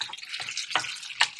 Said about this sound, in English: The onions are caramelizing over here.